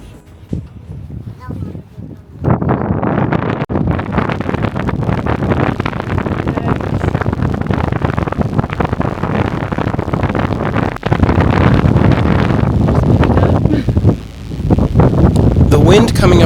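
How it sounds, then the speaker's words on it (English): Strong wind rushing up the eastern face of the Rock of Gibraltar, buffeting the microphone with a loud, steady roar that starts after a quieter opening and carries on throughout with gusty surges. "The wind coming up the eastern face of the rock was impressive."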